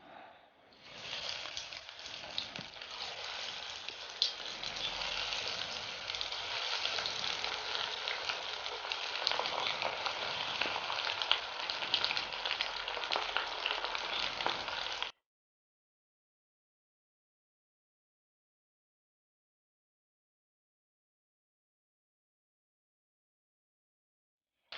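Onion rings frying in hot oil, giving a steady, close bubbling sizzle for about fifteen seconds before it cuts to silence.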